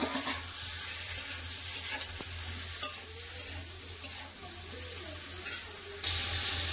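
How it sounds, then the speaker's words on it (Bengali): Ridge gourd and browned potatoes are stirred in a frying pan, with a steady sizzle of oil running throughout and occasional sharp scrapes and taps of the spatula, close and moderately loud. "এবার ঝিঙা দিয়ে দেবো। ঝিঙাটা একটু লেড়ে দেবো আলুর সাথে।"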